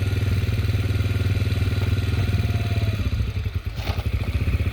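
A rental dirt bike's engine runs steadily close by, a loud continuous throbbing and clattering drone with slight fluctuations near the end, heard alone without voices.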